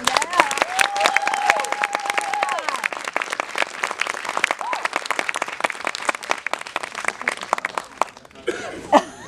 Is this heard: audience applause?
yes